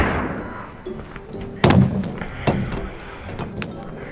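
Several heavy, booming tank gunshots in the video game Melon Sandbox ring out at irregular intervals over a low background rumble, each blast sharp and followed by a short echoing tail.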